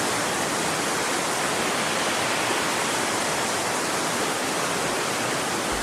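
Rushing stream in the Vallée Bras-du-Nord woods beside a trail, a steady, loud broadband wash of flowing water that fills the whole stretch without a break and with no voices.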